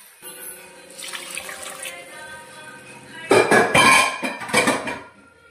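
Water poured into a pot of cooked moth and mung beans for misal, starting as a quiet trickle and then turning into louder splashing bursts with a clink of the pot, without talking.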